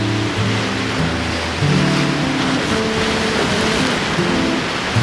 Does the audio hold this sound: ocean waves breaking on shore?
yes